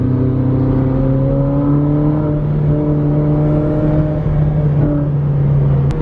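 A Ferrari 458 Spider engine revs and pulls hard, a loud, close, sustained tone climbing through the rev range with a brief dip near the end as the car shifts, heard from inside the car.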